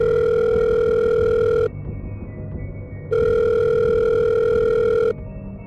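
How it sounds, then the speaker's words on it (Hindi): A telephone rings in two long electronic bursts separated by a pause, loud and steady with no voices, used as a sound effect in a narrated horror story. "तभी उसकी माँ का फोन"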